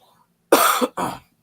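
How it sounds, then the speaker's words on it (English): Two sharp, close coughs in quick succession, the first longer and harsher than the second, alone against near silence. "I keep coughing."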